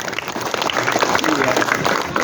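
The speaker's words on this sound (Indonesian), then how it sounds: "tepuk tangan dulu" An audience at an Indonesian community gathering claps in steady, dense applause that carries through the whole moment at moderate loudness, with voices mixed in.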